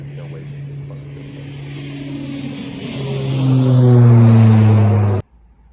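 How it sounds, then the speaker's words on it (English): A propeller airplane passes low over a seaside golf course near an airport, its drone swelling and falling in pitch as it comes nearer, louder, then cuts off abruptly. "There's an airplane going over."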